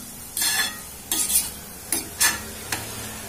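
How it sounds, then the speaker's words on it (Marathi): A spoon stirs sweet boondi in a pan in several short scraping bursts, with a soft sizzle between strokes. "आपण याला थोडं हलवून घेऊया।"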